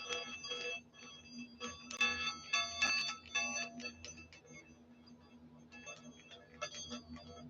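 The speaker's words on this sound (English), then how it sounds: "I'm ringing the bell for you." A small bell rung again and again during a live talk show, its bright metallic rings repeating under people talking, with some louder clusters of strikes mid-way.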